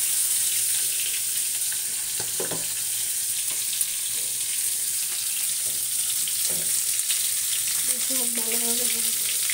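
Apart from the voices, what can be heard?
spice paste frying in oil for koi fish curry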